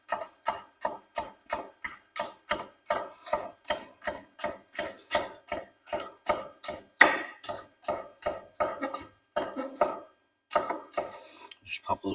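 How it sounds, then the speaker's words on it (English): Onions chopped with a knife on a board while making breakfast egg muffins, a brisk, even series of sharp close taps, roughly two per second, continuing steadily with a few short pauses, no talking. "if you're going to chop, curl your hands in and run the blade up against the edge of your knife"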